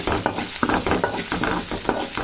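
Tomatoes with salt for egg masala sizzle in a pan, with a brisk rhythm of close scraping stirs over a constant frying hiss, no talking.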